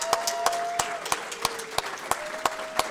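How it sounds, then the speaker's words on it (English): A crowd applauds Hall of Fame inductees at a ceremony, continuous clapping with a few sharp nearby claps standing out, while a faint sustained tone hums underneath. "Once more, a round of applause for our 2024 Hall of Fame inductees."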